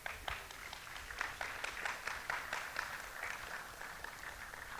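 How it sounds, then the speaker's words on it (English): Young men at a sixth form school leaving ceremony applaud with scattered, fairly faint clapping that carries a room-filling wash underneath and no clear voices. "I'd like to give yourself a round of applause."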